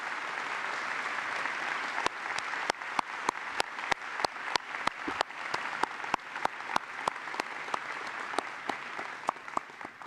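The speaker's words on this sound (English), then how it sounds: "Could we applaud that?" Applause fills a hall at a university convocation ceremony, a steady wash of many hands with a few sharp nearby claps standing out, lasting for the full stretch without talk.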